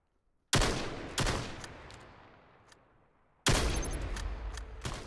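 Sharp, loud bursts of gunfire in the VR shooter VAIL VR, with several distinct shots and two longer volleys separated by a quieter decaying stretch, close and punchy with no talking.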